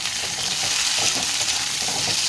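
Thick-cut potato chunks fry in a pan with a continuous, even sizzle and crackle, close and moderately loud, with no one speaking.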